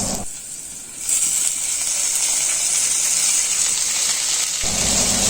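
Spices, chili and onion sizzle steadily in hot oil in a pan over a wood fire, a continuous close, bright frying hiss that swells louder after the first second and holds evenly.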